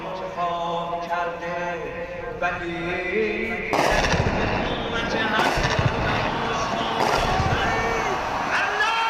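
Distant explosions from US and Israeli strikes and air-defence fire rumble in the background as heavy, broadband bursts, mixed with crowd noise and someone talking over them.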